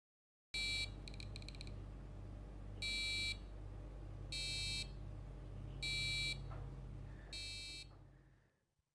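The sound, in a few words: electronic buzzer playing different tones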